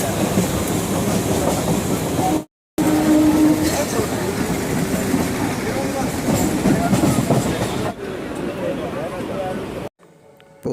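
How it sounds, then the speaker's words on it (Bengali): A train runs on rails on a rainy day, with a continuous rattling clatter of wheels and carriages heard from close by, broken by brief dropouts, while voices talk over it. "ট্রেনটাও চলে এসেছে।"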